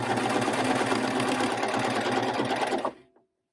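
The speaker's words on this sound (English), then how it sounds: "with this particular cover stitch machine" A coverstitch sewing machine hems a garment with a fast, steady mechanical whirring chatter, close and loud for about three seconds before stopping abruptly into silence.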